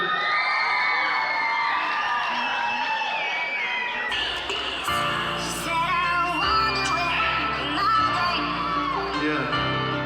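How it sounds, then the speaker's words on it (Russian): A crowd at a Vladikavkaz hip-hop show cheers, whoops and shouts loudly for the rap groups as they come on, with a dense roar and high yells continuing as music begins underneath. "Встречаем бурными аплодисментами"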